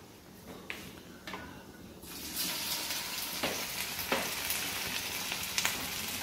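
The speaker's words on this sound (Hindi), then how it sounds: "अब मैं इसको फ्राई करूंगी।" Maggi noodle doughnuts deep-frying in hot oil, a quiet start giving way after two seconds to a steady, close sizzle with occasional crackling pops.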